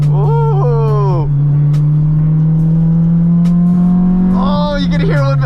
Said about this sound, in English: downshifting in this thing sounds so good now